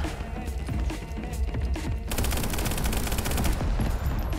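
Rapid gunfire from the Echo Point Nova video game, dense bursts of shots running continuously with a faster automatic stretch in the second half, loud against a noisy background.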